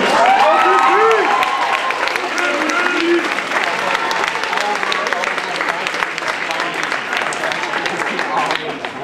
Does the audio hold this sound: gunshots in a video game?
no